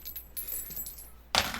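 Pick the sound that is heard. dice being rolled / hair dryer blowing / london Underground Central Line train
dice being rolled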